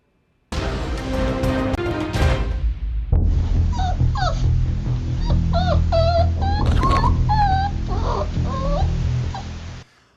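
Dogs whimpering and yipping in a television news report on a mass dog poisoning, a short harsh burst first and then a steady run of high whines and whimpers, loud and close.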